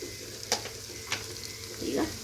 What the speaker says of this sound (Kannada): ಈಗ ನಾನು ಗ್ರೀನ್ ಚಿಲ್ಲಿ ಹಾಕ್ತಾಯಿದ್ದೀನಿ.